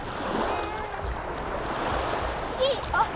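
Sea waves wash steadily onto Bang Saray beach in Thailand, a continuous close surf roar with wind buffeting the microphone and brief voices near the end.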